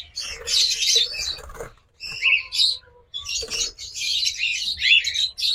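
Pet lovebirds or cockatiels chirp and squawk in bursts of shrill, close calls separated by brief pauses, with a faint low background hum.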